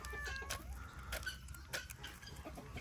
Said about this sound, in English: This is my almost 12-year-old turkey hen, Lurkey Turkey.